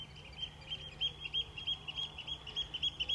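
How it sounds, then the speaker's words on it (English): Birds call repeatedly in short, rhythmic chirps, a steady evening chorus at moderate distance beside a fishing lake, over a faint background hum. "Birds are being super noisy."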